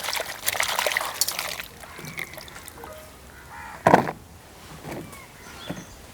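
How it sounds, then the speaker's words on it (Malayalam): Water trickling and splashing as cut mushroom pieces are rinsed, a soft running dribble with a few louder splashes and sloshes, close and fairly quiet, with no talking. "ഇനി നമുക്കൊന്ന് കഴുകിയെടുക്കാം കേട്ടോ."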